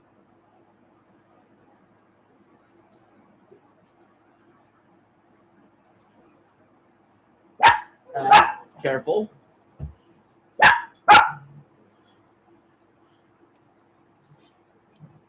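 A dog gives a tight cluster of sharp barks and gruff growling in the middle of the stretch after a long quiet start. A person speaks briefly nearby.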